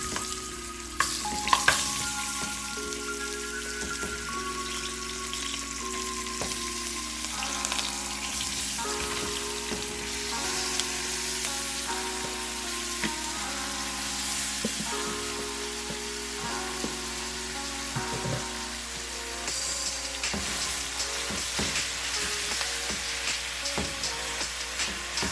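Mutton pieces frying in a pan of burnt curry spices, a continuous soft sizzle and crackle with occasional stirring scrapes, steady and close with no talking.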